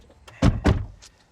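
Lamborghini Huracan STO door opened by its pull handle: two solid mechanical clunks in quick succession close by, then a lighter click, with no talking.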